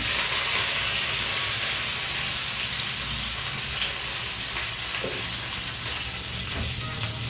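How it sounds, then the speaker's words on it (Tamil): Mustard seeds, cumin and curry leaves fry in hot oil for millet sambar, a loud, dense, continuous hiss and crackle like heavy rain that never lets up, with no talking. "ஆயில் சூடாக இருக்குது கடுகு ஜீரகம் கருவேப்பிலை"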